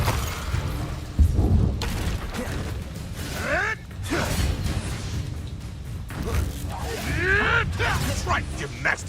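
Incendio fire spells being cast in Hogwarts Legacy combat, with whooshing bursts and thuds that repeat among other spell effects under steady in-game speech.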